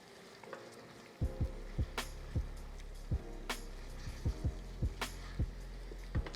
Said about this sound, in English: You just wanna kind of twirl the pasta in that sauce.